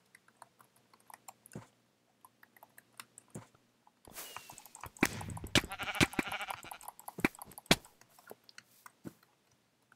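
Sheep bleating in Minecraft on the Mineplex server, a brief burst of bleats in the middle mixed with rapid keyboard and mouse clicking that runs throughout.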